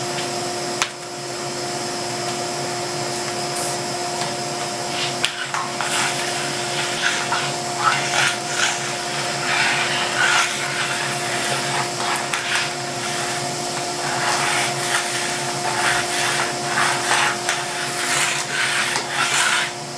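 A modified shop vacuum runs continuously with a steady motor whine and rushing airflow, joined by scraping, rubbing bursts as it sweeps across a floor, loud and close throughout.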